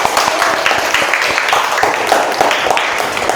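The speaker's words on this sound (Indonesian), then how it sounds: "Tepuk tangan." A classroom audience applauds students from grade 11 after their mini drama, many hands clapping at once in a busy, uneven patter that stays fairly loud throughout, with faint voices mixed in.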